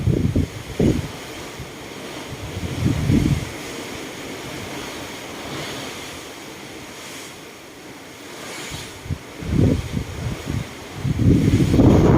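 Ocean waves wash and surge around a ship at sea at night, heard as broad rushing swells mixed with wind buffeting the microphone, rising and falling in several loud gusts with no talking.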